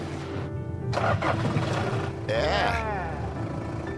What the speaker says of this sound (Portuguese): Aquecemos o carro por 3 horas. Agora vamos tentar ligá-lo.